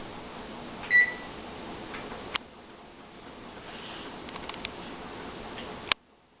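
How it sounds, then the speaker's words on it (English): An oven being preheated to 400 degrees Fahrenheit gives one short, clear electronic beep near the start, then a steady low hum with a few faint clicks, and no voices. "First, we need to preheat the oven to 400 degrees Fahrenheit."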